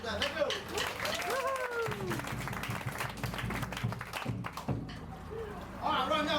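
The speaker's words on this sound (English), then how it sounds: "Round of applause for that." Passengers on a lagoon cruise boat in Rarotonga clapping, a dense patter of applause from a small crowd that swells and tails off, with someone talking over it and at the start and end.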